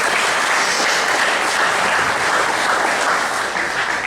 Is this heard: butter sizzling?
no